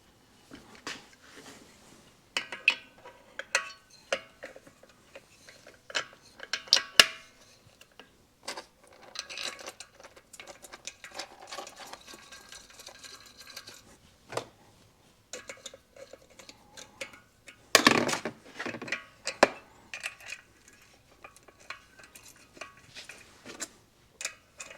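Metal parts click, tap and clank at close range, sometimes grinding, as a clutch actuator is refitted on a Yamaha 250MX motorcycle. The sounds come in scattered bursts with quiet gaps and no talking.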